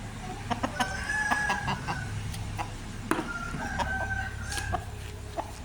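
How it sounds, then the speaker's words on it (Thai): Chickens cluck repeatedly close by while a rooster with an upturned tail crows in drawn-out calls, mixed with soft farmyard rustling. "เป็นไก่ที่งามเนาะ หางกระดกอกต่าง"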